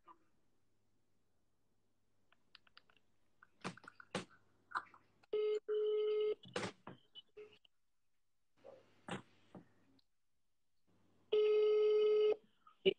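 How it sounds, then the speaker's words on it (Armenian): A telephone call is placed: scattered short dialing tones and clicks, then two long electronic ringback tones separated by quiet, with faint bursts of sound between them. "Զանգեցի։"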